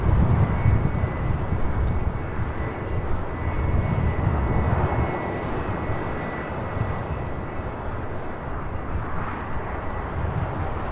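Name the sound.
Airbus A321 airliner arriving at LAX airport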